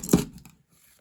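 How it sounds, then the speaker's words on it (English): A small pin holder knocked across a table, one quick clattering knock followed by a faint scrape as it slides, close and brief with no voices. "We just launched the pin holder across the table."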